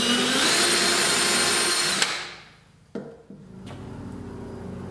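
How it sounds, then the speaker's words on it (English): A power drill whirs loudly for about two seconds while pilot drilling holes in a cabinet, then spins down; a sharp knock follows and a lower motor hum continues. "all I'm going to do is pilot drill these"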